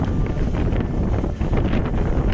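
Wind gusting through trees outdoors near a building, a loud rushing roar buffeting the microphone continuously, with no voices.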